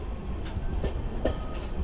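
Tirupati–Secunderabad superfast express with LHB coaches pulling out of Madanapalli Road, a steady rolling rumble with a few sharp periodic wheel clacks over rail joints.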